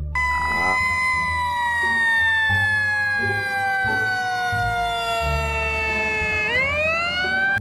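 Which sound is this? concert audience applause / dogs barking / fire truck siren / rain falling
fire truck siren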